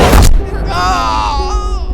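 A loud gunshot bursts out at the start of an action scene in a Hindi-dubbed South Indian film, followed by tonal, wavering voices crying out.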